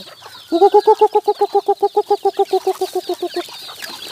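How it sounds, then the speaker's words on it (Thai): Rapid series of about twenty loud, evenly spaced clucks from young bantam chickens, two to three months old, close by and alone, fading slightly toward the end. "นี่ครับ นี้ชุดแรกสามเดือนนะครับ ไก่สองเดือนสามเดือน"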